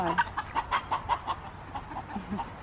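Chickens cluck in a rapid, repeated run of short calls close by on a farm with baby goats in the barn, with faint voices in the background.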